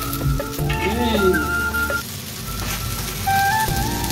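Potatoes fry in a pan on a kitchen stove with a steady, fairly loud sizzle, mixed with brief whistle-like tones.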